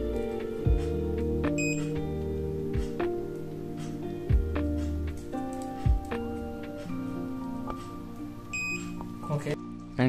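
A multimeter on continuity mode gives repeated electronic beeps, some sustained, as its probes touch the commutator bars of a starter motor one by one. The beeps sit over light clicks and probe scrapes while a person talks.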